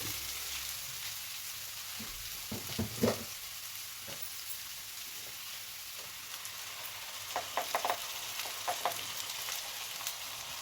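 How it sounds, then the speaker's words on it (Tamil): Ground masala paste frying with onions in a pan for egg kurma, giving a steady background sizzle with occasional stirring clicks and scrapes, with no talking. "இப்போ நம்ம அரைச்சி வச்ச பேஸ்ட் போட்டுக்கலாம்"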